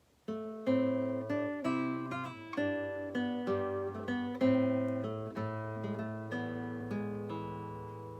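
A guitar plays a steady low bass line under plucked higher melody notes, each note ringing and fading in an even, unhurried rhythm.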